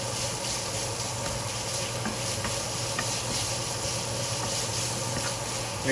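Ground pork fries and renders its fat in a pan, giving a steady loud sizzle with faint scraping stirs throughout, with no talk.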